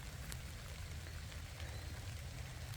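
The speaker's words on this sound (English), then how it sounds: "this is going to be a fast garden tour because it's raining" Rain falls steadily over a wooded vegetable garden in Missouri, a constant soft hiss of drops with a low rumbling undertone and no talking.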